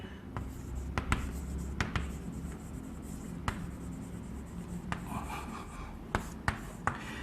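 Marker or chalk writing on a board during a lesson, with scattered short taps and strokes over a low room hum; no talking heard.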